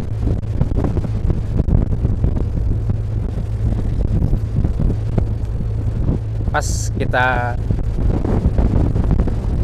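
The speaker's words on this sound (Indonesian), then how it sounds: "soalnya anginnya keras banget ini" Strong wind at sea on the Java Sea buffeting the microphone aboard a boat, a loud continuous rumbling roar with a brief whistling squeal midway and someone speaking briefly.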